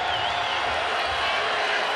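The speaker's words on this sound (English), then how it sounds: "You can really hear the roar from the crowd." A stadium crowd at a Kansas vs Arkansas college football game roars loudly and continuously, a broad, sustained wash of cheering with a faint whistle riding on top.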